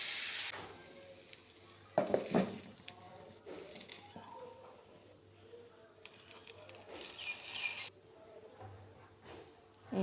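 Thin batter sheets for chicken rolls cooking in a pan give a quiet, intermittent sizzle with occasional scraping and clatter, under soft speech.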